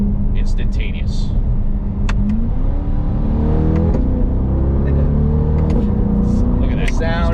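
A Chevrolet C8 Corvette with a dual-clutch transmission revs under acceleration, its engine note stepping through quick paddle-shift gear changes as the pitch climbs and drops. The engine is loud and steady throughout, with someone talking over it.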